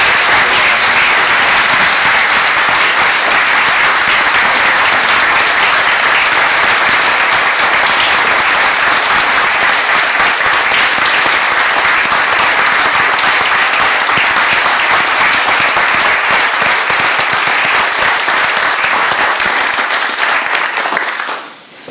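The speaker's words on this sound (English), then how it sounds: "Let's have a round of applause." Sustained applause fills a city council chamber in Charleston, steady and dense throughout, with many hands clapping together before it tapers off sharply at the end.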